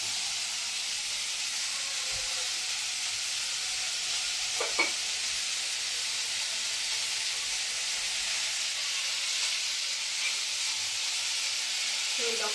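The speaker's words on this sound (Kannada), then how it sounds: "ಈ ತರ ಸ್ವಲ್ಪ ಹಸಿ ವಾಸನೆ ಹೋಗೋ ತರ ಫ್ರೈ ಮಾಡ್ಕೋಬೇಕು" Ingredients for avarekalu saaru, a Karnataka field-bean curry seasoned with rock salt, fry in a pan with a loud, continuous close sizzle and hiss, plus a few faint scrapes as they are stirred.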